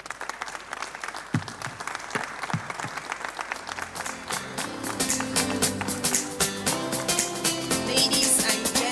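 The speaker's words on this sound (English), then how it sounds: "A resounding round of applause." Audience applause at an African creators' conference, starting as scattered claps and swelling into a dense, sustained ovation with music rising underneath.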